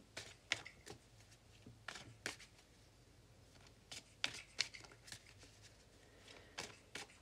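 Tarot cards shuffled for a reading, a series of soft riffling and tapping bursts at irregular intervals, close and quiet with no talk.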